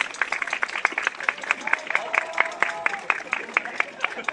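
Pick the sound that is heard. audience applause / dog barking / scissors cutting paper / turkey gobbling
audience applause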